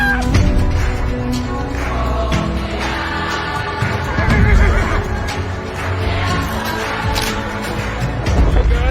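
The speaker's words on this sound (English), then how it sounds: "It's a horse traffic jam" Several horses neigh and whinny loudly in a crowded jam of horses in Egypt, repeated calls mixed with hooves and crowd noise all around.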